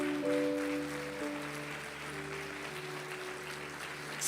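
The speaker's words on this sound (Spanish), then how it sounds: "Yo le daría un fuerte aplauso al Señor Jesús." Church congregation applauding during a worship service, a broad wash of clapping under sustained musical tones from instruments, moderately loud and continuous.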